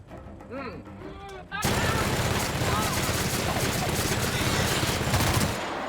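Dense, loud bursts of rapid gunfire and explosions from a sci-fi shooter video game, The Outer Worlds, erupt after a brief stretch of quieter game sounds.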